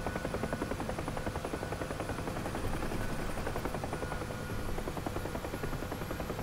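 Bell UH-1 Huey helicopter in the DCS flight simulator setting down between two parked C-17 transports, with a steady, loud rotor chop and turbine whine running continuously throughout.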